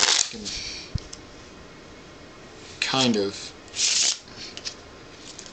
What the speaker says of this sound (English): So that's the Riffle Shuffle